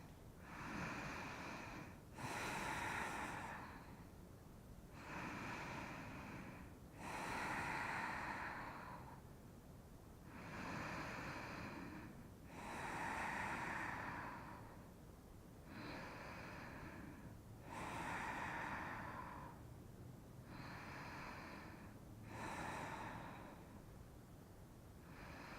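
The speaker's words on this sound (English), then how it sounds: "Take 3 or 4 breaths." Slow, deep yoga breaths during a reclined twist, each long inhale and exhale rising and falling in a steady rhythm about every two to three seconds, close and breathy with no talking.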